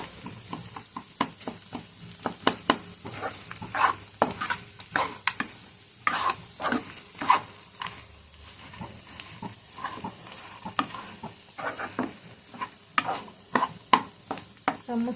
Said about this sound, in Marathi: आता मिक्स करूया मिक्स छान करायचं लगेच बंद करून नाही द्यायचा गॅस छान मिक्स करायचं स्टफिंग सगळीकडे लागली पाहिजे व्यवस्थित